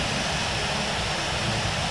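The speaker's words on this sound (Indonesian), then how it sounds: "Engine 1 dan engine 2. Engine 1 itu mesin pesawat ini." Airliner jet engine running in the Infinite Flight simulator game: a steady, loud, broadband roar with no pauses.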